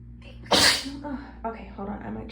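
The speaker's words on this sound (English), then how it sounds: "I might just have to get the sneezes out first and then talk." A single sharp, loud sneeze bursts out, followed by short breathy sounds and faint voiced murmurs as the person recovers, close to the microphone in a quiet room.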